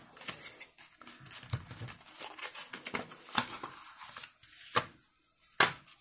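A Tuya Zigbee smart switch package is unboxed up close: irregular crinkling plastic and cardboard rustles, soft tearing and several sharp taps and handling knocks, with quiet gaps between.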